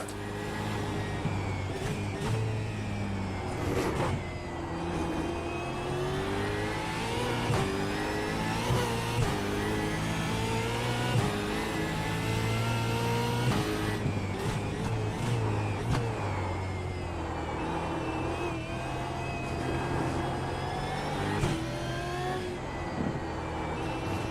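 A supercar engine drones and revs steadily through a race, its harmonic whine rising and falling with gear changes, loud and continuous for the whole stretch with no talking.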